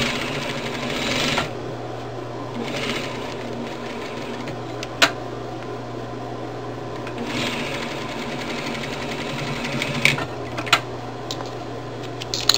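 An electronic quilting sewing machine stitching a pocket on a phone holder: a few bursts of fast rhythmic needle clatter over a constant low motor hum, with scattered sharp clicks and taps.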